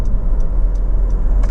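A Honda CR-V 2.2 i-DTEC EX 4x4 diesel drives along a quiet country road. Steady low road and engine rumble runs throughout with faint ticking, and no voices.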